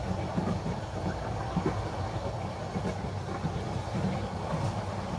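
Aboard the Cox's Bazar Express passenger train, a steady loud rumble of wheels on rails fills the carriage, with faint rhythmic clatter and wind noise and no talking.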